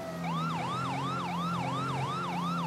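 A police patrol car's siren wails in a fast repeating up-and-down yelp, about seven cycles, loud and steady over a low engine hum, with no voices.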